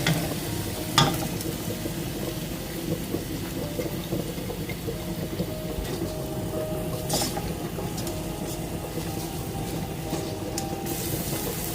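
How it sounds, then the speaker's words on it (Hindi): Onions with garlic and ginger paste sauté in a hot pan, giving a steady, close sizzle with occasional stirring clinks and scrapes throughout. "लहसुन अदरक की स्मेल आए तो इसमें साथ ही प्याज डाल देंगे।"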